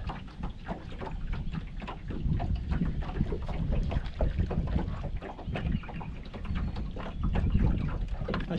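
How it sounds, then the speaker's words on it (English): Wind buffets the microphone in a steady, rumbling roar beside a lake while bass fishing, low gusts swelling and easing with faint rustling texture throughout, no voices. "With the wind blowing like this"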